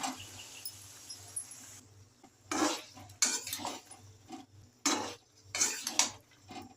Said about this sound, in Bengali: এবারে দিয়ে দিচ্ছি কেটে রাখা বেগুন।